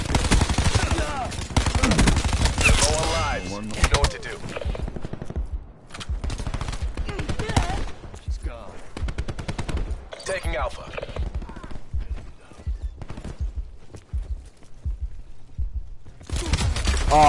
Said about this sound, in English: This MX, this submachine gun is dope as fuck.